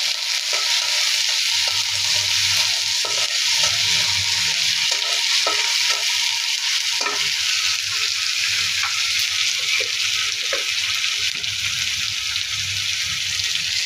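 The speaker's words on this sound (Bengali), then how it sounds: "এখানে পেঁয়াজের পেস্ট দিয়ে দিব, কিছুটা রসুনের পেস্ট দিয়ে দিব, দিয়ে ভালোভাবে মিক্স করে নেব" Onion and garlic paste frying for shrimp bhuna sizzles steadily in a pan while a spoon stirs and scrapes it, the hiss continuous and close with no one speaking.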